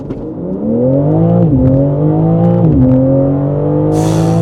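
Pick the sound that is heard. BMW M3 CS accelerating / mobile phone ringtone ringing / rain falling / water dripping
BMW M3 CS accelerating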